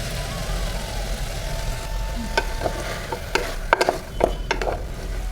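A sprouts curry with ground masala paste sautés in a pan, a soft sizzle underneath as a spoon clinks and scrapes in a cluster of sharp strokes toward the end; near, fairly quiet, no voices.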